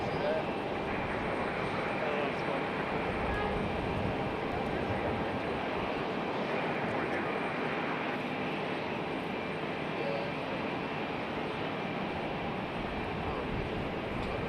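Air Canada airliner taxiing slowly toward the runway end at Raleigh-Durham International Airport, a steady broad engine roar holding constant and fairly loud throughout with no talk over it.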